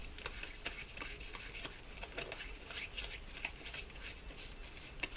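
Tarot cards shuffled by hand at close range, a steady papery riffle of soft flutters and light taps running throughout, fairly quiet with no voices.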